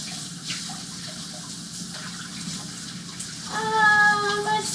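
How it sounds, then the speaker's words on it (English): Tap water runs briefly at the end as a kitchen spatula is rinsed off, a steady close splash rising after a stretch of low room noise. "I need to rinse off my spatula."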